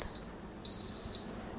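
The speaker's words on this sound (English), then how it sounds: "when it is hot, the Instant Pot will beep" An Instant Pot heating water for sous vide gives a short electronic beep, then a longer sustained beep, clear and close against a quiet background.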